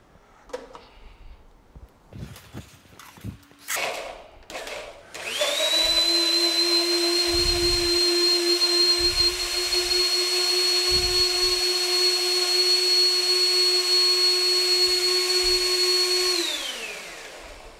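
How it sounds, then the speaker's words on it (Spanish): After some handling clatter, a kitchen blender roars into a steady high whine, blending tomato, onion and serrano chile for salsa, holding for about eleven seconds before winding down. "Ya está en nuestra licuadora, ya tenemos nuestro jitomate, cebolla, el chile serrano"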